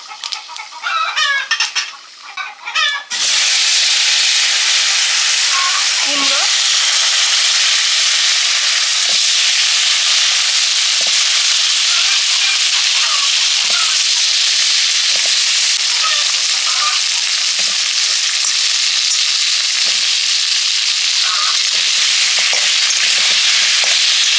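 Panch phoron, dried red chillies and bay leaves crackle in hot oil as the base for a thin rui fish curry, a steady loud broadband sizzle with occasional light clinks of utensils, no talking.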